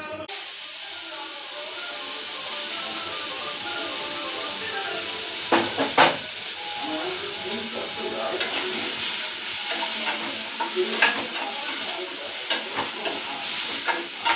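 Oil sizzles steadily in a pan as pasta is started, a constant close frying hiss with occasional louder crackles and spatters.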